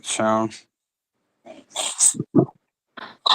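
A single sharp sneeze bursts out at the start, followed after a pause by people talking in a casual live chat.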